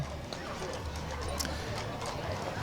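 Horses clip-clop along while pulling a wagon in a Christmas parade, a steady hoof rhythm in the middle distance over continuous crowd and commentary voices.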